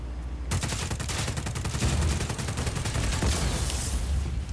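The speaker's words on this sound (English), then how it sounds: "And now I guess I shoot it in the guts." Rapid gunfire is aimed at a generator in a video game. A dense, loud burst of shots starts abruptly and keeps going with a heavy low rumble beneath it.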